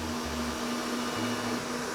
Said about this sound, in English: So we're whisking this on high speed.